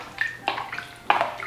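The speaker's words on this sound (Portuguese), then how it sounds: "Vou colocar um pouquinho de água." Water poured into a roasting pan holding a stuffed Christmas chicken, a few short splashing bursts close by with brief gaps between them and no voices.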